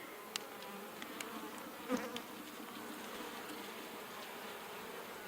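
Honey bees buzz steadily at a beehive during a hot-weather inspection, a soft continuous drone with a few insects passing close by, and no talking.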